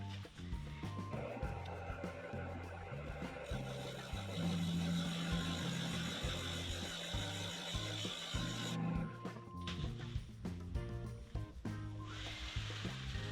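Rasping, scraping strokes of a woodturning gouge being honed, a continuous rough rubbing sound close by, with workshop noise underneath.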